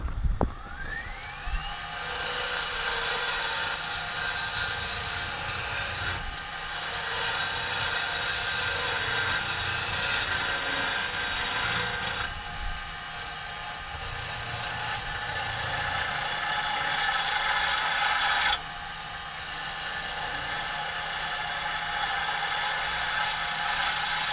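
A green wood branch spinning on a woodturning lathe, a loud continuous motor hum with a tool scraping and cutting against the wet wood, broken by short pauses where the lathe slows before resuming.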